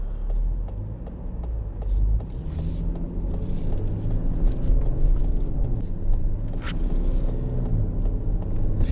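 2020 Lincoln Aviator plug-in hybrid driving on a road, a steady low rumble of tyres and motion from inside the cabin with faint ticking, continuous and moderately loud throughout.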